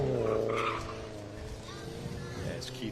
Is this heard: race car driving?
yes